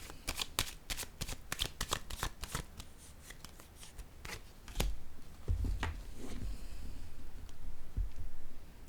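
Fortune-telling cards are handled and shuffled close up: quick crisp riffles and slaps come in uneven bursts, then the sound thins into softer sliding and tapping of the deck.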